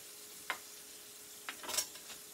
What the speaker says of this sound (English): I have my spoon. Stir it up. And I think the apples might be soft enough.